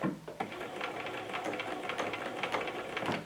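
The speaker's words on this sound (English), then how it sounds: "I'm stitching 5, and then I'm going to back up 5." A sewing machine runs a short burst forward then reverses to backstitch and lock the seam on a jacket, a close, steady mechanical whir with quick ticking stitch pulses.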